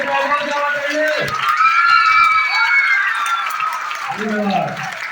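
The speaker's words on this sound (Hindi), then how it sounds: "एक बार जोरदार तालियों से स्वागत।" A school audience at a student performance in Rampur, Kahalgaon, Bhagalpur bursts into applause mixed with children's cheers and shouts, loud and lively, with voices breaking through near the start and end.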